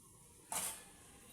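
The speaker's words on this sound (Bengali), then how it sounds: "আমি ঢাকনাটা খুলছি" A pot lid is lifted off a pan of simmering potato and fish curry, giving a single brief creaky metallic scrape in a quiet kitchen.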